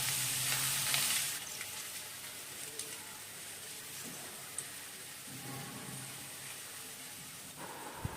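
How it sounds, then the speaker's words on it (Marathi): Seven or eight crushed garlic cloves frying in half a cup of oil for a Surmai fish curry, a soft continuous sizzle and hiss with a few faint stirring taps, louder for the first second then settling lower. "ठेचलेला लसूण सात आठ पाकळ्या गोल्डन ब्राऊन कलर येईपर्यंत लसूण परतवून घेऊ"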